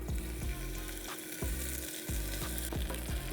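Chopped onion frying in olive oil as the base for an Italian risotto, a close, continuous sizzle with repeated soft stirring or scraping strokes in the pan and no talking.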